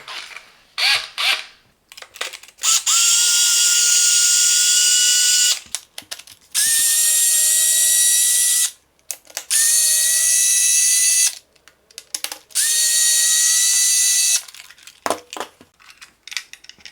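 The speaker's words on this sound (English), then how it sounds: "to remove the back cover we need to remove 4 screws." A power screwdriver backs four screws out of the back cover of a Parkside PAAL 6000 C2 cordless work light, sounding as loud, close whirring bursts of a few seconds each. Short clicks and handling noises fill the gaps between bursts.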